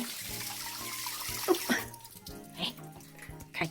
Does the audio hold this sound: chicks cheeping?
no